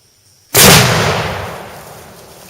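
A single loud, close gunshot from a Springfield XD-M .45 ACP pistol fired at a watermelon outdoors, a sharp crack followed by a long decaying echo.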